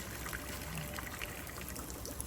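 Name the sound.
water flowing in garden pond and creeks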